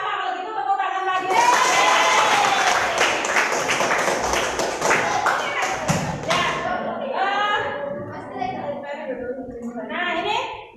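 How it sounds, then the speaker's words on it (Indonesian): Classroom children clapping together in a burst of applause, loud and dense for several seconds, then fading as young voices chatter and talk over the end. "kalau gitu tepuk tangan lagi"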